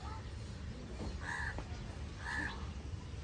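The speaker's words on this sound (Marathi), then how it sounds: "एक कावळा आहे कधीचा काव काव करतोय" A crow caws twice in clear, harsh calls over a low, steady background hum, sounding moderately close.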